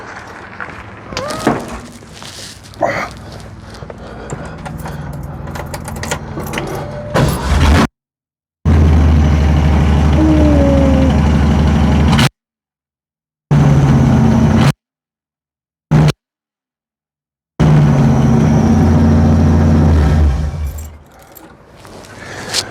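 A 1967 Ford Mustang fastback converted from a coupe fires up and runs with a loud, steady low engine rumble and some revving, the sound cut by several short gaps of silence.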